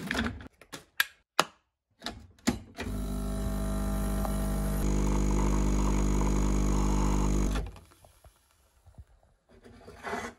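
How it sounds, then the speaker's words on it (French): Espresso-type coffee machine brewing a cup: a few clicks and button taps, then a loud steady pumping drone for about five seconds that shifts pitch midway and cuts off, followed by quieter handling sounds. "On veut te voir en train de prendre un café. Avec le bruit de la machine."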